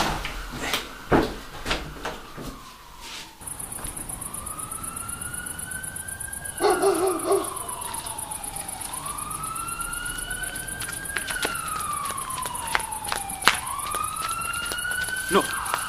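An ambulance siren wails in rising and falling sweeps, rather close and sustained over a village street, with some knocks and clatter early on and voices talking around it.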